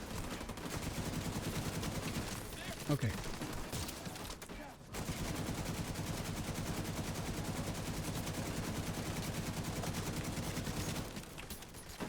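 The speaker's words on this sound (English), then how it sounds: "And the turret is hurting me." Rapid, continuous automatic turret gunfire in The Division 2, a dense steady rattle lasting most of the stretch with a brief pause midway, loud and close, with a voice speaking briefly over it.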